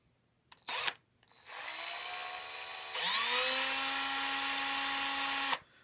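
Power drill cutting into the sheet metal of a 1947 GMC truck cab, a loud, steady high-pitched whine after a brief start, then biting harder into the metal and running at higher pitch for about three seconds before stopping.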